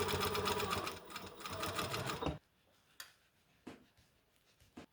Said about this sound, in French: Je vais aller piquer tout ça à 1 cm du bord,